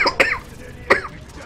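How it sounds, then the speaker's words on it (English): Two sharp, close coughs about 0.7 s apart from a man with a sore throat during a Transformers: Fall of Cybertron game session, the first a quick double burst, the second a single rasping hack, with quiet game sound between. "Damn, I hate this cough."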